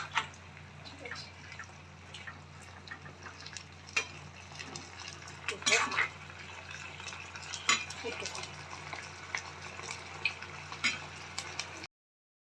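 Chili chicken being stirred in a pan, with scraping and soft wet sizzling, intermittent utensil clicks and knocks at close range, fairly quiet throughout.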